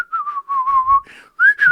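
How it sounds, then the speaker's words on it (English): A person whistles a wavering melodic tune to pass time while waiting, close and clear, alone in short phrases with brief pauses between them. "aggressively fucking whistling to try and pass time"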